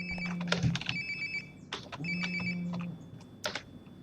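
A phone rings in the video game Life Is Strange: Before the Storm, with two bursts of electronic ringing separated by a pause and a short chirp near the end, close and clear.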